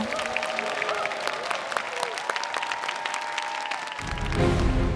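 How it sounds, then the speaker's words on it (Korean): A studio audience at a televised trot singing competition applauds two child singers after their duet, with crisp, sustained clapping over lingering music that swells louder near the end. "두 어린이에게 여러분 뜨거운 격려의 박수를 부탁드립니다"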